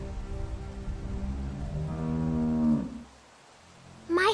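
A cow in a farm setting moos in one long, loud, drawn-out low call that rises and then breaks off, followed by a brief quiet stretch and a short sharp noise at the end.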